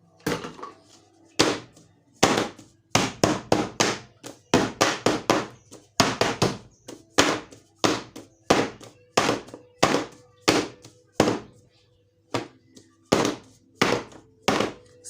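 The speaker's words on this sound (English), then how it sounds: "when I bang the tin on the surface" A cake tin is banged repeatedly on a hard surface to knock air bubbles out of the batter, giving a long run of loud, close wooden thunks in quick irregular bursts with short pauses between them.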